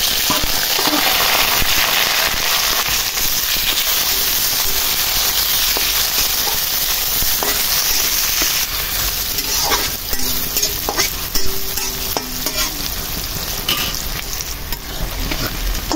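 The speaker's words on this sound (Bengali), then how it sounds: "আমার তেলটা গরম হয়ে গেছে, এখন আমি পেঁয়াজগুলো দিব। দেখেন পেঁয়াজ আর মরিচ।" Onions and green chilies dropped into hot oil for a mutton and dal curry sizzle loudly and close up, a dense crackling hiss that eases slightly after about nine seconds as scattered stirring clicks and pops continue, with no speech.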